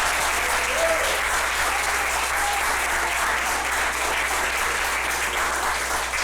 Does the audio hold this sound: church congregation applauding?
yes